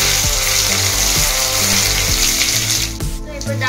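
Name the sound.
cumin and mustard seeds sizzling in hot oil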